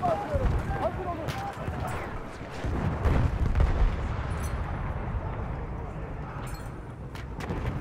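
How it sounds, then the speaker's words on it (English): Explosions and artillery booms from Battlefield 1 gameplay, heavy low rumbling blasts amid ongoing battle noise and scattered gunfire, with voices talking over the action. "Bomba atıyorum. Hazır olun."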